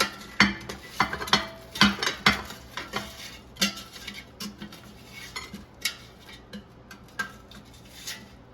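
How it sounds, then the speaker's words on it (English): Crispy chicken wings come out of an air fryer, with a steady run of close metallic clinks and clatters from tongs, basket and plate. "So let's take them out of the air fryer."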